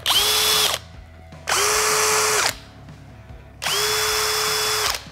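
A Bosch GSB 18V-50 cordless hammer drill drilling wood whirs loudly in three separate bursts, each revving up, holding steady, then winding down, with quiet gaps between.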